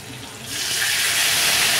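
Water is poured into a hot mustard-seed and green-chilli tempering for khaman dhokla. A quiet start swells after half a second into a steady, loud, close rushing hiss.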